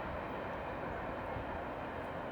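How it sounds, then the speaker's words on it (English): Freight train with six locomotives passing at speed through snow, a steady loud rumble of rolling cars and engines filling the whole stretch without pause. "That train was booking. Had plenty of power on it too."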